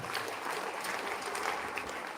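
A worship congregation claps together in steady, dense applause that holds loudly throughout, with no clear speech.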